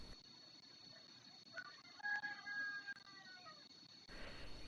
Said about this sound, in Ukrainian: Під спів Леляківського півня